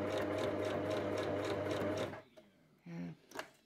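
Sewing machine stitching a custom seat cover for a GY6 Chinese scooter, a steady close whirring run that stops abruptly, followed by brief speech.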